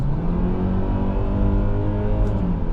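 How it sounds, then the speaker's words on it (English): The 4-cylinder engine of a 2024 Kia Sportage SX-Prestige drones loudly under acceleration, a steady rising hum with strong low harmonics heard from inside the cabin during an evening drive. "If you put your foot down, you're gonna have to hear that engine droning"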